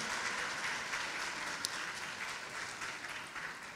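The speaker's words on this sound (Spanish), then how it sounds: "Vamos a dar un fuerte aplauso mesurado" Soft, sustained applause from a congregation at a church Christmas service, a diffuse, even clapping texture heard from some distance and fairly faint throughout.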